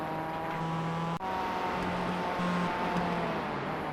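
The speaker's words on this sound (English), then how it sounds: "Have a listen to the engine." A Mazda MX-5 race car in iRacing on the Nürburgring combined circuit drones along at a steady engine note with faint gear-shift changes in pitch, a continuous moderate hum with a brief dropout, no talk.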